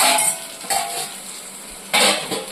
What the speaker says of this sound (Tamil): சிம்மில் வச்சு நல்லா வதக்கிக்கலாம்.